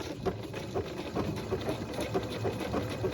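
A sewing machine stitches around an appliqué curve for a quilt block, a steady, fairly quiet mechanical whir with faint rhythmic ticks, running alone without talk.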